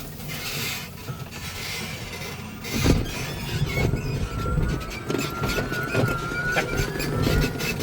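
A HiSun Sector E1 utility vehicle fitted with a 24 HP lithium conversion kit pulls hard up a hill, its electric motor whining with a rising tone over steady rumbling, rattling and road noise, close and loud throughout.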